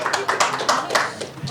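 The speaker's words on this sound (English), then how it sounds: "That deserves a great round of applause." Audience clapping at a film launch event at the Bharat Pavilion, Cannes Film Festival, a brisk irregular patter of hands, fairly close and loud, with voices over it.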